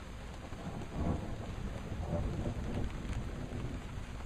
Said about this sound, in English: And some thunder.